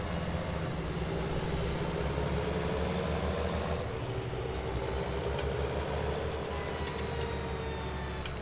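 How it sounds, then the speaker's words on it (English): A tractor engine drones steadily in a farming video game, a continuous mechanical rumble with a slight shift in tone partway through that may be a gear change, and no voices. "A lot of tractors are coming out like that now where you can actually hear the gears change."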